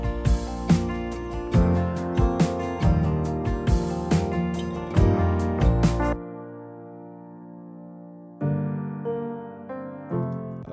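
Filtered piano with its lows and highs trimmed, playing alongside acoustic guitar tracks, drums and bass in a band arrangement; full mix with steady beats for six seconds, then a brief gap before thinner keys return alone.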